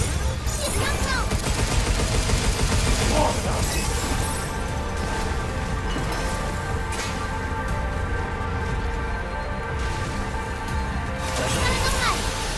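Gunfire in the video game Pragmata, dense continuous shooting and impacts layered under loud game music and effects for the whole stretch, with no clear gaps.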